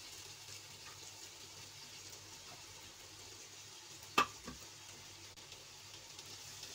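Butter and onions fry in a kadhai for Mumbai-style pav bhaji, giving a quiet, steady sizzle with one sharp clatter near the middle and some soft stirring, close by with no speech.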